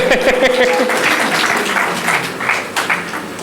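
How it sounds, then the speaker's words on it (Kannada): Crowd applause, dense and sustained, mixed with voices and some cheering throughout. "ಎಲ್ಲ ಚಪ್ಪಾಳೆ ಜೋರಾಗಿ"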